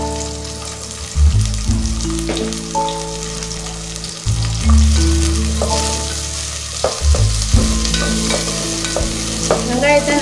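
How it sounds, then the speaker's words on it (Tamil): About 50 grams of thinly sliced small onions sauté in hot oil, a loud close sizzle broken by scraping stirs and occasional pops. "வெங்காயத்தை நல்லா வதக்கிக்கோங்க."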